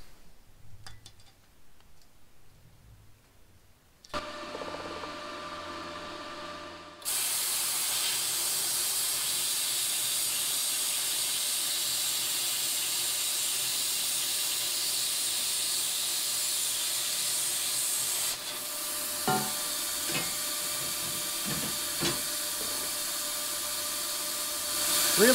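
Titanium Plasma 45 torch cutting metal: quiet handling noises, then a loud steady roaring hiss as the arc starts and runs unbroken through the cut, ending with a few clicks and a brief change in tone.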